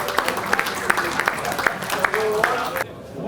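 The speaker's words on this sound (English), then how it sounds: "let's have a big round of applause for all our inductees" An audience claps for inductees at the 80+ Hockey Hall of Fame 2022 ceremony, scattered hand claps rising over a murmuring room with a voice talking through it, ending abruptly.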